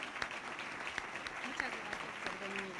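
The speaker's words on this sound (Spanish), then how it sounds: "Recibamos con un fuerte aplauso al doctor Pablo González Casanova" A conference audience applauds to welcome a lecturer with steady, dense clapping that fills the room, while a voice speaks over it.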